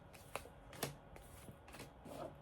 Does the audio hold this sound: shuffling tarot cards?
yes